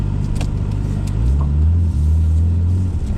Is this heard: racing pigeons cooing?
no